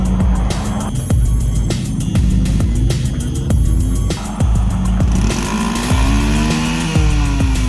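A moped carrying a passenger, stopped by police on an Almaty street, with its engine running steadily and revving up and down in throbbing pulses, loud and close throughout.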